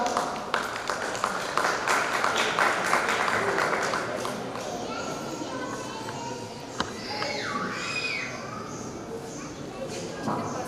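Audience claps at a school graduation ceremony for pre-primary children, a dense patter of applause over the first few seconds that thins out, with voices and an announcer's speech mixed in.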